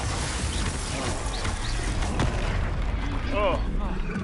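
Spell explosions crackle and boom in the video game Hogwarts Legacy, a dense, continuous roar of blasts layered over combat effects, with a player's voice intermittently audible.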